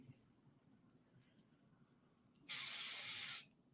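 Quiet room noise, then a single loud hiss from a can of temporary spray adhesive lasting about a second before cutting off abruptly.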